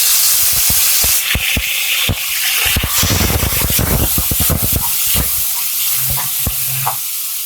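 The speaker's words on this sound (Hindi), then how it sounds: "अब इसके अंदर डालूंगी मैं टमाटर।" Chopped tomatoes drop into a hot pan with fried garlic for fried rice, giving a loud sizzle broken by sharp scraping and stirring clicks from a spatula, with no talking.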